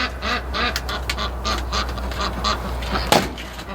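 Several ducks quack repeatedly in irregular bursts close by, with a steady low hum underneath and one sharper, louder call near the end.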